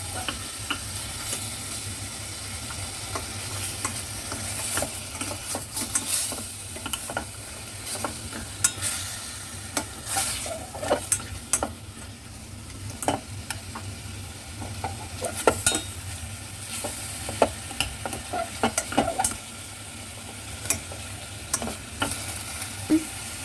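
Pork ribs sautéing and browning in a pan, with a continuous sizzle under repeated scraping and stirring clinks of a utensil against the pan, no talking.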